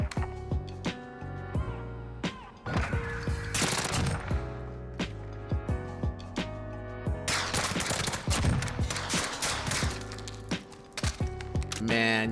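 Rapid bursts of hip-fired submachine gun fire in Modern Warfare, with loud, close volleys interrupted by brief pauses and sharp single cracks over a steady game background.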